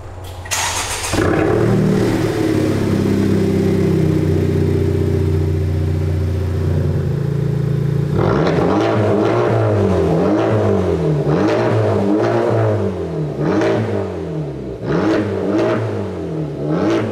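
A Honda Civic Type R with an aftermarket fart can exhaust, fitted on the stock hangers, fires up and idles with a loud, droning note, then is revved hard in a series of rising and falling bursts.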